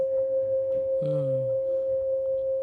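Soft, steady electronic tones hum continuously in the background. A brief gliding chirp sweeps downward partway through.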